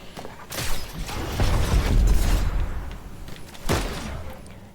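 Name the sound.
gunfire in a video game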